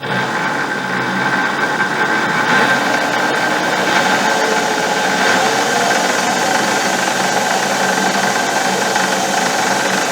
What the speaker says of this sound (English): in order to check if the shaft is straight, I just mount it on my lathe, and I will put it now to rotate